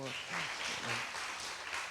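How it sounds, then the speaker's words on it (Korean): Audience applause in a youth church Sunday service, a broad patter of clapping running under a voice throughout. "박수 한번 주세요"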